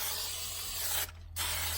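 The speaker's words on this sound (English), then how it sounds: "just a light mist of like hairspray again." A light mist of hairspray hisses out in a steady burst for about a second, stops briefly, then resumes, close to the microphone with no talking.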